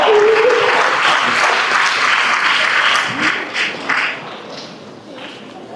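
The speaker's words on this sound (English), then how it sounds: "let's clap for her" A crowd at a graduation ceremony claps steadily and loudly, with some voices mixed in, and the applause gradually thins out toward the end.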